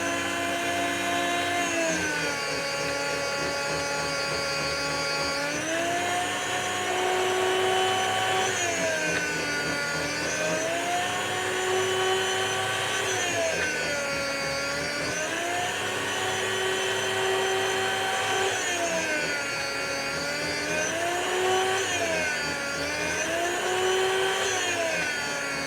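A 20-year-old electric meat slicer, never unboxed before, hums with a steady motor whine that dips and rises in pitch as the blade cuts through the first slices, repeating in a slow cycle with no talking.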